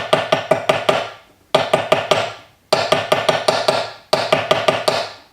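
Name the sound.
nylon-tipped hammer striking metal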